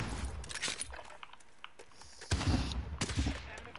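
Gunfire in the Call of Duty Warzone video game rattles in quick, sharp bursts, with a louder cluster of shots near the end, all fairly faint and crackly.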